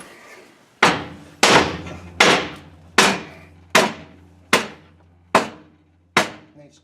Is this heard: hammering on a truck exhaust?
yes